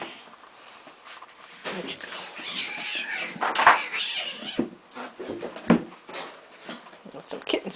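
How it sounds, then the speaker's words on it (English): Several kittens meow in a home, their high cries rising over scattered thumps and rustling, with one sharp, louder call near the middle. "Got some kittens over here getting wild."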